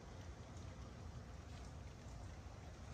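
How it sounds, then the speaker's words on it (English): Hard, steady rain pours down during Hurricane Milton, a dense continuous hiss and patter that stays loud and even throughout, with no voices over it. "Some hard rain."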